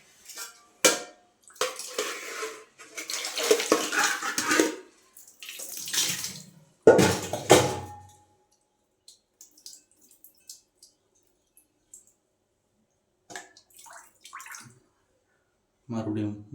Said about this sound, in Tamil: அவ்வளோ அழகா தண்ணி வடிகட்டிட்டு